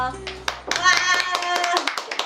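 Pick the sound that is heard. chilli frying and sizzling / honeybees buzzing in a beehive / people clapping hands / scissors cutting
people clapping hands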